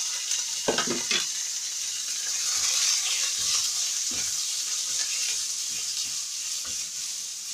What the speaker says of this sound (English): After putting little oil, I put my meat. Remember, it's minced meat.